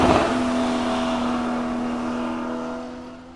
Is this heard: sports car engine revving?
yes